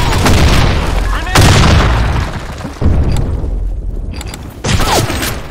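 Grenade blasts in the Blackshot shooter game: three loud, close booms about a second and a half apart, each with a rumbling tail, amid gunfire pops and shouted callouts.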